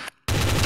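A loud, close burst of gunfire in the shooter Counter-Strike: Source, arriving abruptly after a brief silence and sustaining a dense, rattling roar.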